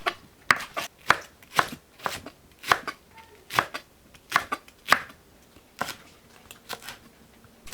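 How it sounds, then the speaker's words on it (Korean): A knife chops carrot and green onion on a cutting board for spicy squid stir-fry, about a dozen crisp, evenly spaced thuds at a steady rhythm, close and clear, slowing and fading toward the end, no voices. "당근을 썰어 주세요. 파를 썰어 주세요."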